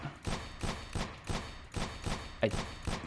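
Gunshots fired at targets in a shooting video game, a regular series of punchy reports roughly every third of a second, one sharper shot near the end, close and even in level with no talking.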